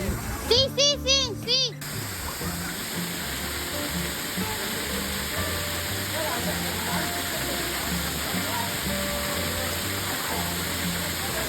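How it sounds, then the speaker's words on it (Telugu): A waterfall in Meghalaya roars in a constant, dense rush. A person speaks briefly at the very start, then the water continues alone. "వాటర్ అక్కడి నుంచి కింద పడతాయి"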